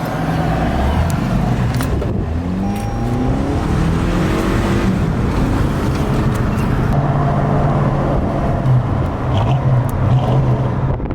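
A car fitted with a loud aftermarket dual exhaust cruises on the road, its engine rumbling steadily and close for the whole stretch with rising revs and a constant low drone, no talking over it.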